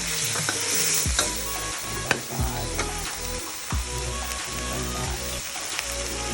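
Chicken is stir-fried with chili and young star gooseberry leaves in a hot pan, giving a loud, steady sizzle throughout. A spatula scrapes and clanks against the metal again and again at an irregular rhythm. No one talks.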